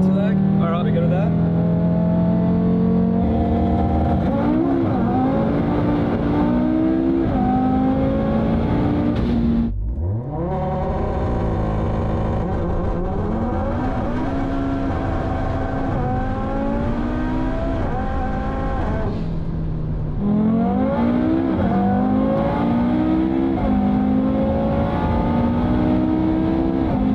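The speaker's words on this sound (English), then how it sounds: "we'll start off with some rolling anti-lag" An Audi RS3 runs rolling anti-lag, its engine revving in repeated surges close by, with two sharp cuts where the revs drop away before climbing back up.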